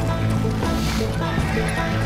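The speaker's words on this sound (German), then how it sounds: "Da sind Pferde drin." A horse neighs in the stables in the Western shooter game Call of Juarez: Gunslinger, a loud, close, drawn-out whinny over dense game ambience and music.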